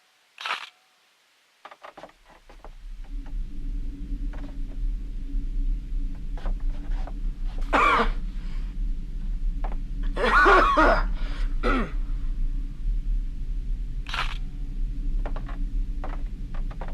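A woman's dry cough sounds twice, short and fairly close, over a steady low room hum with faint footsteps and occasional camera shutter clicks in an otherwise quiet house.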